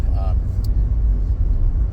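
A car's engine rumbles steadily from inside the cabin while it drives, a continuous low hum with a brief voice-like sound near the start.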